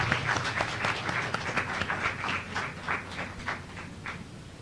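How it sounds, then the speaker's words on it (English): Audience applause at a live-streamed quiz round as contestants return to their seats, a steady patter of many hands clapping at moderate volume for several seconds with no talk over it. "Let's give them a round of applause"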